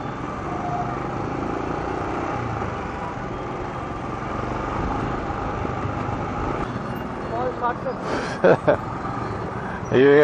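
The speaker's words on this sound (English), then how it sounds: "This guys is the traffic in Pune." Dense street traffic in Pune with many motorcycles and scooters, a steady roar of engines close by, a few sharp horn-like bursts near the end.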